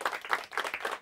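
An audience claps for a team at the final round of a Hindi quiz competition, a short burst of quick, rhythmic clapping pulsing in clustered beats, fairly soft and brief.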